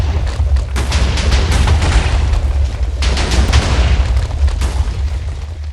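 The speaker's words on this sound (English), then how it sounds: "That is me using a single thing of dynamite" A single dynamite charge going off in modded Minecraft, very loud booming blasts that roll on with heavy low rumble and debris crackle, two main surges, no talk.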